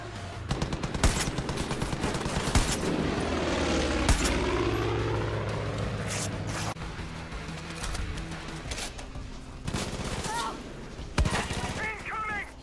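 Gunfire in Far Cry 5, with bursts of shots and sharp single cracks over a droning engine like a helicopter, with voices talking in the background.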